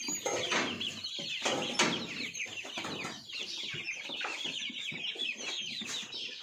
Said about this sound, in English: Yeah, they're all pecking away at the pumpkin.